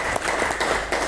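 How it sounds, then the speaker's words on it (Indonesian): Audience applause for a speaker at a HIPMI Morowali business forum, a steady dense wash of clapping that fills the whole short moment without a break. "Dinda Irsad, kita berikan aplaus buat beliau ya."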